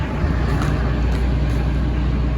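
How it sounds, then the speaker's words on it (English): Low, steady rumble of road traffic heard from beside the water, a continuous distant drone with faint wind and no voices. "You can kind of hear the rumble of traffic."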